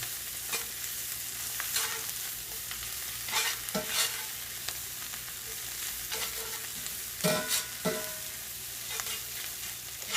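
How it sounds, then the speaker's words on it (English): Spinach sizzles in butter in a hot pan. A utensil scrapes and turns it in repeated strokes over a steady, close frying hiss. "Keep that spinach turning."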